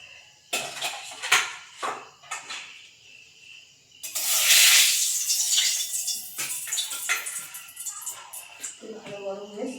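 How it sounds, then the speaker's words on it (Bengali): Fish frying in hot oil in a kadai wok: a loud, steady broadband sizzle swells up partway through and holds, after earlier short clattering bursts of utensils, with no talk over it. "এবারে মাছটা ভাজা করে নেব।"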